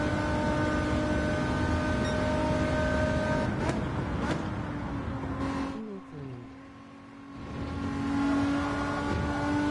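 A race car engine in a racing video game holds a steady whine, fades briefly as if shifting or lifting off, then builds again, with a constant tonal drone underneath.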